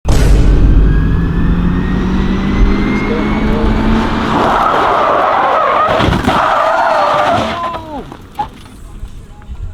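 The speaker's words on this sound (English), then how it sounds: "His tire popped." A Toyota Camry drifts on an Arab street with engine roar and a rising tire screech, then an abrupt burst as the tire pops midway, followed by scraping and a quieter tail.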